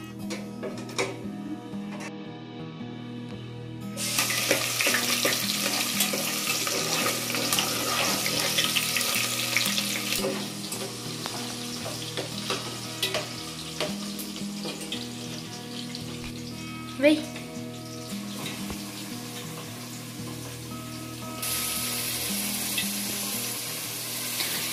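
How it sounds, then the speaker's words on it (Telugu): Onions sizzle in hot oil with bay leaves, cinnamon and cloves for a mutton curry, a steady loud frying hiss with occasional clinks and stirring, growing brighter partway through. "పలావ్ ఆకులు 2, చెక్క లవంగాలు అవి 2 ఇవి 2 వేసుకొని అవి వేగాక ఉల్లిపాయలు వేసి వేపాలండి."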